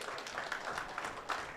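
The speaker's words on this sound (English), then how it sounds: "The applaud seems louder when Shaw slots the 9 home." Audience applause at a Premier League Pool match, a brief, moderately faint patter of clapping from a crowd.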